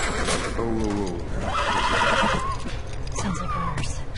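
Horse neighing in The Last of Us Part II, a loud, near whinny with wavering pitch that rises and falls, followed by a shorter snort, with clip-clop hooves and game ambience underneath.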